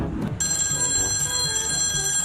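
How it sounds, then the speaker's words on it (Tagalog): A telephone bell rings, a sustained bright trilling ring starting after a brief rustle, steady and fairly close with no one speaking. "may tumatawag sa telepono"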